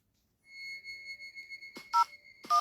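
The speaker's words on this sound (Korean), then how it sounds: "난 뭔가에 홀린 사람처럼 방금 전까지 보던 블로그에 나와 있는 연락처로 전화를 걸고 있었다" A phone being dialed: a steady tone holds for over a second, then two short, loud keypad tones sound close together near the end, with no voices.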